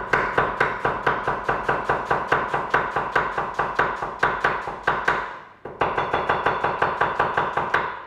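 A knife thinly slicing red onion on a board strikes in rapid, even chops, about four per second, with one short pause partway through before the same steady rhythm resumes, close and crisp.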